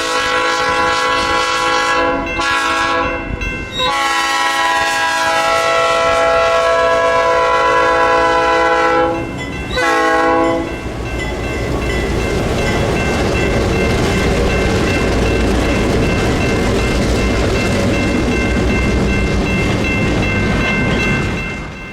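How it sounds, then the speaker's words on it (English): A Pee Dee River freight train led by two orange GP16 locomotives with 13 mixed cars sounds its horn in loud sustained blasts, then rumbles past close by with clattering wheels and a steady roar. "Today's train looked pretty good, with 13 mixed cars rolling behind Pee Dee's 2 orange Jeeps."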